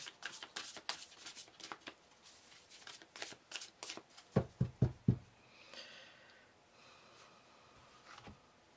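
Oracle cards are shuffled by hand in a brisk run of crisp riffles, followed by several sharp taps as the deck is squared, then soft handling sounds.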